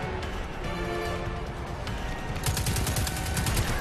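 Enemy gunfire in the shooter video game Destiny 2 rattles in rapid bursts, quiet and somewhat distant, growing denser and louder toward the end.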